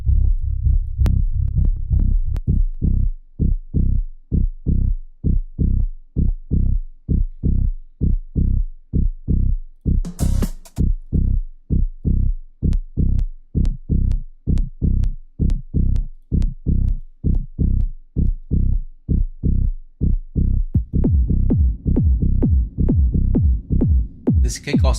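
A dry electronic bass line, stripped of its effects, plays alone as a steady run of punchy, deep, evenly spaced pulses that keep a tight repeating rhythm throughout.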